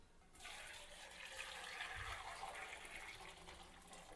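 About two litres of water pours into a kadhai wok for boiling macaroni: a soft, steady splashing stream lasting a few seconds, faint and with no talk.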